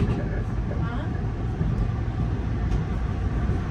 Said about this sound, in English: Go Transit commuter train heading west out of Toronto Union Station.